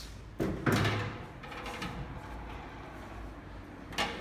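A hinged cargo door on a 1959 SA CKD vehicle opens with a soft clunk and scrape near the start, followed by quiet handling noise and a faint click at the end.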